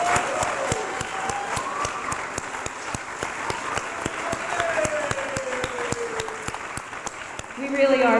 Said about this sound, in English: So you give yourselves a round of applause for everything that you've accomplished this